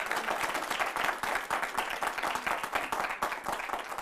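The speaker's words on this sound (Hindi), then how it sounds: "आपके बात पे इतनी जबरदस्त ताली बजी है" A TV debate studio audience bursts into loud, sustained applause, dense overlapping clapping that holds steady for several seconds with no talk above it.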